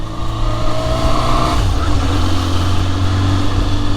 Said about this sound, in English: especially with a loud bike like this